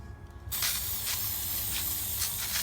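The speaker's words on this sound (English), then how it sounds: "now I'm going to spray glitter on my 5 decorative cups" After a brief quiet moment, an aerosol spray can of glitter lets out a steady, close hiss onto decorative cups that keeps going for about two seconds.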